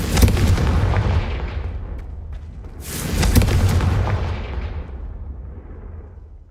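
Casting the Confringo blasting spell in Hogwarts Legacy produces two heavy booming blasts, each a loud impact followed by a long rumbling tail that fades slowly, with no talking.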